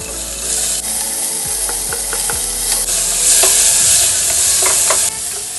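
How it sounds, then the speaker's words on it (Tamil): Sliced onions sautéing in hot oil with fennel, cinnamon, cloves and cardamom for Ramadan nonbu kanji, a steady close sizzle broken by scraping stirs of a spoon in the pan. "சேர்த்து நல்லா பொரிஞ்சதுக்கப்புறம் வெங்காயத்தையும் இதோட சேர்த்து வதக்க ஆரம்பிச்சிடலாங்க."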